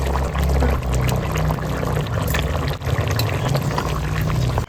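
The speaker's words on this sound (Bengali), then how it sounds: "এবার মাছগুলো দিয়ে দেবো।" Pieces of katla fish drop into a simmering cauliflower and potato curry, with wet splashing and bubbling over a low rumble, close and fairly loud.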